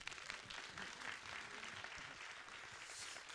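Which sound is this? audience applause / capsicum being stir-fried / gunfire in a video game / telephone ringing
audience applause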